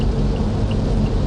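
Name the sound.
heavy rain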